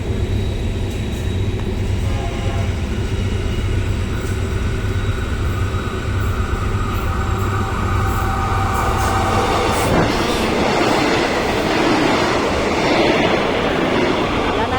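Train number 40 passes through Suan Son Pradipat station, a loud, close, continuous rumble and wheel clatter that fills the whole stretch and swells a little toward the end, with no talk over it.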